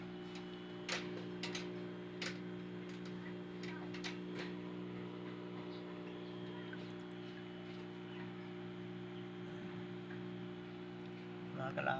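A strong water pump motor in a fish tank setup hums with a steady, low mains-like drone throughout, joined by scattered faint ticks and clicks in the background.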